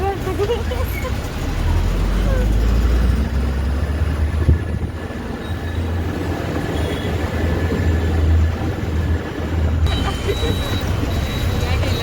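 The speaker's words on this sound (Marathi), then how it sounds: "तर 3ची रेल्वे आलेली आहे" Train pulling into a railway station in Kolhapur, a low steady rumble of wagons with faint wheel squeal, heard under crowd chatter and nearby voices.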